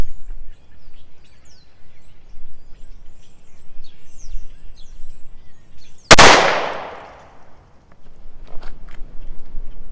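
A single sharp, loud gunshot from a .38 Super pistol firing handloaded 124-grain XTP ammunition, with a ringing decay after the crack over quiet outdoor background with faint bird calls.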